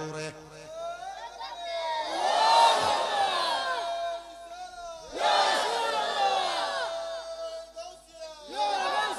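A large crowd at a Bangladeshi religious sermon gathering loudly shouts the takbir in unison, two long swelling roars of many voices with echoing reverberation, the second starting mid-clip and a third beginning at the end.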